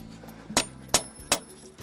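Hammer striking hot steel while forging a camp knife, three sharp ringing metallic blows at a steady pace, fairly close, with quiet workshop background between strikes.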